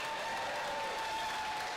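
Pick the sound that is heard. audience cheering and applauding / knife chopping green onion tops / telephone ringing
audience cheering and applauding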